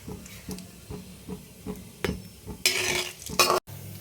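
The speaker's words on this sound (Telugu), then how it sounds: "నూనె కాగాలి కొద్దిగా ఇప్పుడు ఇందులో శనగపప్పు మినపప్పు ఆవాలు జీలకర్ర" Chana dal, urad dal, mustard seeds and cumin hit hot oil for a cabbage curry tempering, with a spoon scraping and tapping the pan, soft sizzling, and a loud hissing burst near the end.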